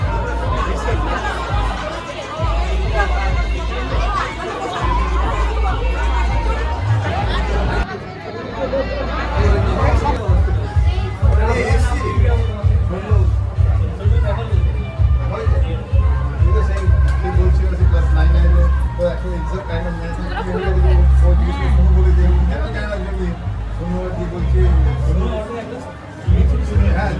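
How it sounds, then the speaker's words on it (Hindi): A crowded wedding reception hall packed indoors, loud dense chatter of many voices filling the room continuously, with occasional laughter and bumps in the babble. "इतनी भीड़ थी ना यहाँ पर में"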